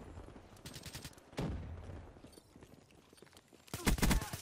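Bursts of MP-40 submachine gun fire in Black Ops 3, a short rattling volley at the start and another loud one near the end, with quieter game noise between.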